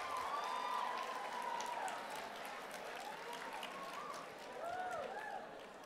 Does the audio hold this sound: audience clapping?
yes